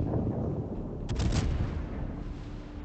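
Naval guns of the battleship Des Moines fire in World of Warships, a sharp burst near the one-second mark over a constant loud engine and sea rumble, with no talk.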